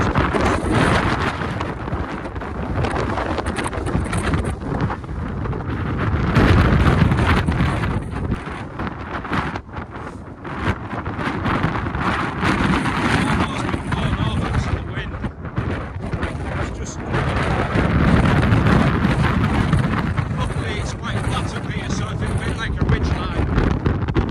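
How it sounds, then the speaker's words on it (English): Strong June wind on the Kentmere Pike summit in the Lake District roars and buffets the microphone as a continuous loud rumble, gusting harder and easing without a break. "The wind is just unbelievable."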